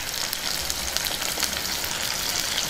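Garlic and onion pieces sizzle steadily in hot oil as a traditional ivy gourd pickle is made, a dense, continuous frying crackle close up with no talking.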